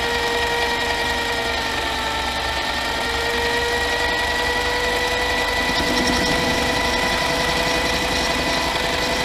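An old Pratt & Whitney machine runs nearby with a steady, loud mechanical hum and whine that holds constant throughout, with no talking.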